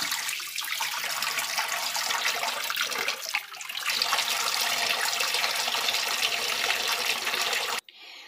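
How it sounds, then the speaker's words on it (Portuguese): Tap water pours steadily into a laundry tub, a dense continuous rush that runs for most of the stretch, briefly dipping midway, then cuts off abruptly near the end. "aqui eu vou ligar aqui pra colocar um pouco de água aqui"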